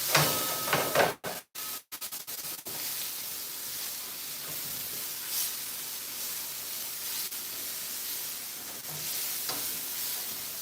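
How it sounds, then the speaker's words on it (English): Mushrooms with a pinch of salt frying in a pan, a steady close sizzle and hiss after a few loud stirring knocks and scrapes at the start. "And we're going to stir that."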